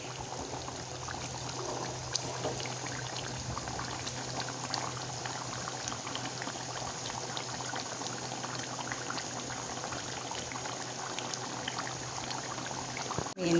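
A large fish head curry simmers uncovered in an open pot to reduce its liquid, with soft, continuous bubbling that stays faint and even, with no voices.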